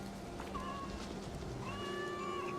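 Cats meowing in a video game, two drawn-out meows, the second longer and higher, sounding moderately close over a steady murmuring background.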